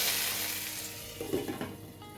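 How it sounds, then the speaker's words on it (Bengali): Hot tempering spices poured into a pan of bottle gourd curry, giving a brief burst of sizzling and crackling over a steady low frying hiss. "এবার এই ফোড়নটা এর মধ্যে ঢেলে দেবো"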